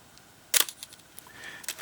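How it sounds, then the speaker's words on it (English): Canon 7 rangefinder camera's shutter fires once at 1/30 second, a single quiet, crisp mechanical click in an otherwise hushed room, followed by faint small sounds. "It is just a beautiful sounding shutter. Really quiet."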